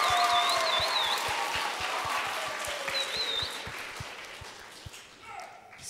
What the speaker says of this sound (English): Can we get a round of applause for these amazing leaders?